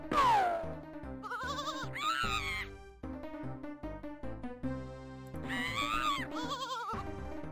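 Sheep in the Freddy Pharkas Frontier Pharmacist computer game let out repeated wavering, synthetic-sounding bleats, loud and close, with game sound effects and music-like tones between them.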